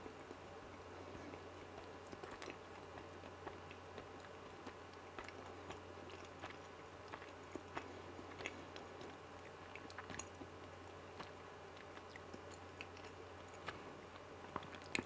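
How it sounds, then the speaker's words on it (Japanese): Someone bites into and chews a salted butter dorayaki from Kadohachi Honten in Chiba, with faint, soft mouth sounds and small squishy ticks scattered quietly over a hushed room. "これから一口食べてみようと思います。"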